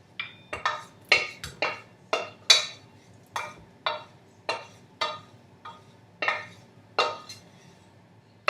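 Onion being scraped from the bottom of a pan while making vegan pumpkin soup, heard as about fifteen short, crisp scrapes and clinks in a steady rhythm, close and fairly loud over quiet kitchen background.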